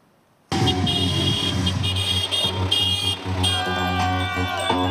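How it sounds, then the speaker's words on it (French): Car horns honk repeatedly amid a steady rumble of engines, with a busy mix of toots and music-like tones from a convoy of anti-reservoir protesters arriving in the village of Paulmy, Touraine. "C'est au son des klaxons et dans la bonne humeur que le convoi débarque dans le bourg de Paulmy"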